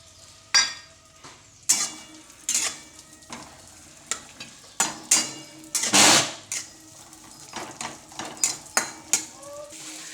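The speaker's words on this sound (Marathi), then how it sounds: "कढईमध्ये थोडंसं तूप घालते आणि मनुके घेतलेले आहे ते भाजून घेते" Raisins roast in a little ghee in a kadhai while a spoon repeatedly clinks and scrapes against the metal. Soft sizzling runs under the irregular taps and stirs, which are close and fairly crisp.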